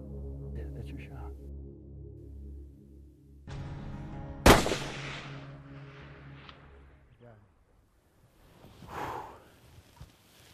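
A single sharp, loud gunshot rings out during a whitetail deer hunt, with soft whispered voices before it and quiet murmuring and movement as it fades.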